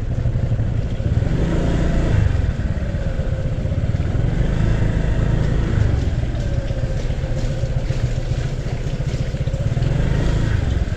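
Motorcycle engine rumbling close by on a road near Tanay, Rizal, a steady loud low drone with slight swells in pitch, wind buffeting throughout.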